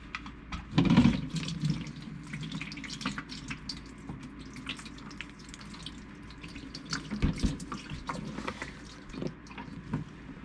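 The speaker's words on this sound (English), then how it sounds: "See how that's flowing really nice?" Warm engine oil pours from the drain hole of a Porsche Carrera 911 (997), a steady, close liquid splashing and trickling like a running tap, surging slightly at the start and continuing throughout.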